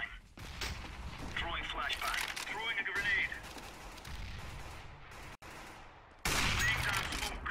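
Gunfire crackles in a Counter-Strike match, with AWP sniper rifle shots among sharp reports and clattering in-game effects, a loud burst near the end, while a player talks over it.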